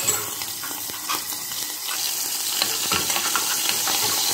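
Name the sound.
gizzards added to pot, sizzling while stuffing pigeons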